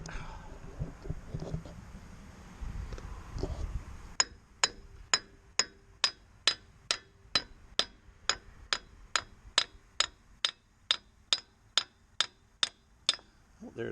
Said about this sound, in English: I might have to pound this past it to line that bolt up again